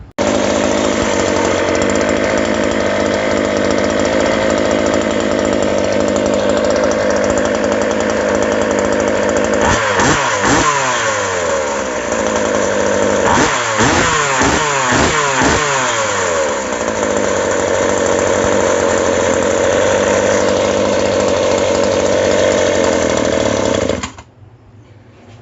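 Scooter engine revving after a new 8K rpm clutch is fitted: a loud, buzzing two-stroke-like whine holds steady, with rapid rising and falling rev sweeps in the middle before cutting off near the end.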